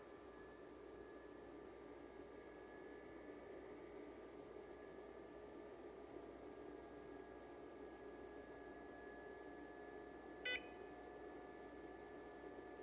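A single short electronic beep from a PCS STMAX series FM transmitter powering on sounds once over a steady hum and faint high whine.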